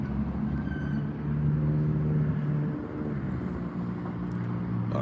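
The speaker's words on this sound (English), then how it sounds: "A lot of traffic going by." Road traffic passes by outdoors in Oregon as a continuous low rumble of vehicles that swells and eases slightly. It is moderately distant and heard without talk.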